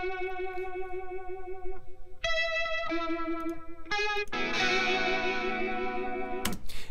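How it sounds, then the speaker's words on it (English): A Stratocaster electric guitar plays a riff through an MXR Phase 90 phaser set high, its sustained, bright notes sweeping with a wobbly, swirling tone, ending in a thicker chord and a sharp cutoff. "it was an MXR Phase 90 turned up really high to get that sort of wobbly sound"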